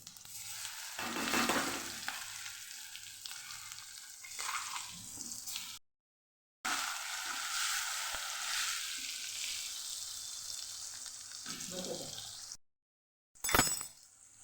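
Spice paste for a Kathiyawadi cluster bean curry sizzles in hot oil with cumin and ajwain over low heat, a steady close hiss broken by brief silences and a sharp clatter near the end.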